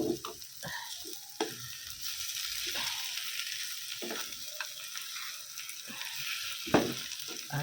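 Fried rice with egg, peanuts, onion, garlic and ginger hisses in a pan with a soft, steady sizzle, broken by spatula scrapes and stirring clatter at irregular intervals; close and fairly quiet, no talking.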